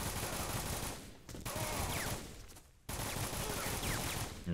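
Gunfire in a 50 Cent: Bulletproof video game, sustained dense bursts of shots with brief gaps, loud and continuous throughout.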